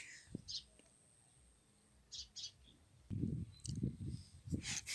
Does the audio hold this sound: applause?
no